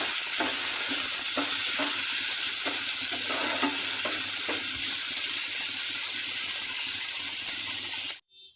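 Potato and capsicum fry with salt and turmeric is stirred in a pan, loud, close and steady, with a bright continuous sizzle and repeated scraping strokes of the spatula, ending abruptly.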